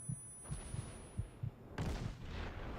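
Secondary guns fire in the World of Warships video game, heard as a string of muffled, low booms spaced roughly every quarter to half second, followed by a louder rumbling swell, all fairly faint.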